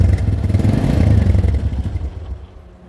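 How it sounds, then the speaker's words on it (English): A Royal Enfield Meteor 350 motorcycle's exhaust booms loud and close in a pulsing, throbbing note, gradually fading toward the end. "Quite loud of an exhaust note of this motorcycle."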